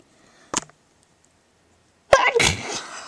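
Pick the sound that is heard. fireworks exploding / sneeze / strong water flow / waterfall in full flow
sneeze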